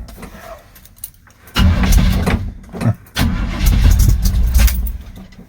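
Cold start of a 1977 Chevy truck with a 454 big block and rebuilt Quadrajet carburetor: a cranking attempt, then the engine catching into a loud rough rumble, stumbling briefly, and roaring again close by.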